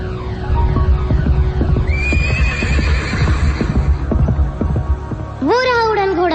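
Cartoonish neighing of a flying horse in a radio drama, a long whinny over rhythmic clip-clop and a droning hum, then a second loud, wavering neigh near the end.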